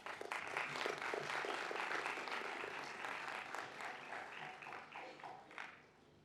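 An audience at a university commencement applauds the graduates, a dense wash of clapping from a large crowd heard at a distance, steady at first and then gradually tapering off.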